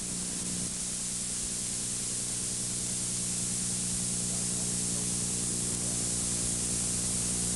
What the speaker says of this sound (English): Pump air into the receiver until the gauge hand comes into the area of the red line.